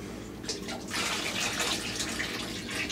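Water runs steadily from a tap over sprouting seeds being rinsed, a close, even hiss and splash that swells after the first second and then holds, with no talk.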